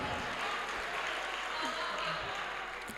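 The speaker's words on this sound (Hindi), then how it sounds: "जोरदार तालियां बजाकर मुझे इजाजत देंगे" Mushaira audience applauding steadily throughout, a dense, continuous wash of clapping from a crowd with a faint voice or two underneath.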